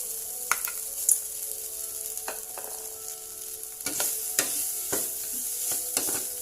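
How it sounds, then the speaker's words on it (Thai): Grilled catfish is stirred and dry-roasted in a pot, with a soft continuous sizzle broken by several sharp scraping and clinking strokes of a utensil against the pot, close and moderately loud. "แล้วก็จะคั่วปลาดุกให้แห้งแห้งหน่อยครับ"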